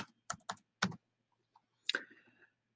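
Card number being typed on a computer keyboard while entering a new cardholder credential in access-control software: a few separate bursts of key clicks, close and fairly quiet, with pauses between them.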